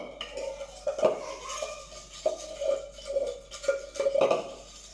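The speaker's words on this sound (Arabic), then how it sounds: "وغادي نخلط هذا المزيج مزيان" A spoon scrapes and clinks against a bowl while stirring instant coffee and sugar together, giving a steady rhythm of rubbing strokes and light metallic taps, close and moderately quiet.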